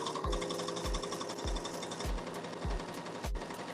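Sewing machine stitching down a side seam, a steady hum broken by regular low thumps of the needle at a moderate pace.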